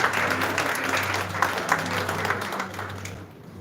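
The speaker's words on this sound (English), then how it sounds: "A huge round of applause" An audience applauds at a conference award ceremony as a certificate recipient is called up, a dense, even wash of clapping held steady before tapering off near the end.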